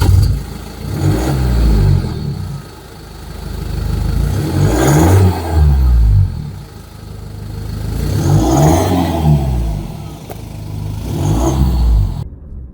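A BMW 220d diesel coupé engine accelerates repeatedly, rising and falling in roughly four swelling pulls heard close up with a low, rumbling drone, no talk during the runs.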